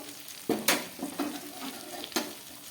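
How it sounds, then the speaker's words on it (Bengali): Ground cumin hits hot oil with ginger in a pan, giving a steady sizzle with several sharp scraping stirs, close and fairly loud, with no talking. "একদম প্রথমে দিয়ে দিচ্ছি 1/2 চামচ জিরের গুঁড়ো"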